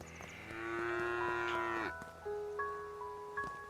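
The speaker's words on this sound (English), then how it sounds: "Kill this cow to vent my anger." Cow mooing in the video game Craftopia, a long drawn-out low moo followed by a second shorter lowing call, clear and close over quiet game ambience.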